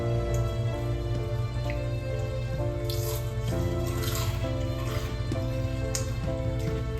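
A crispy multigrain dosa sizzling on a hot pan, giving faint crackles and scattered pops over a steady background hum, close by with no talking.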